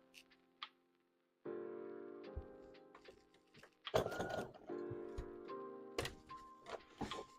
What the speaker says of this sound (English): let's sew up some Team Aqua bandanas